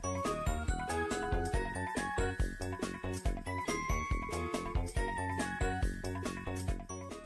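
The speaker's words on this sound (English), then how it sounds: "this version also has the song from that version that plays during gameplay" Gameplay music from the Bloons TD video game on PSP and iOS: a busy, bright instrumental loop with steady rhythmic beats and chiming melody, continuous and loud throughout with no talking.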